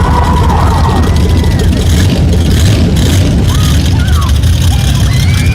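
Mud bog truck at an Orangeburg mud bog race, its engine roaring loud and steady throughout, with a busy crowd and voices mixed underneath.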